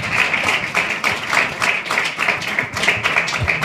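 A church congregation claps for the pastor, giving dense, sustained applause that carries on steadily from start to finish with no talking over it.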